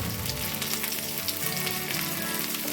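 Sliced shallots and curry leaves frying in coconut oil, producing a dense, continuous crackling sizzle close by with no voices.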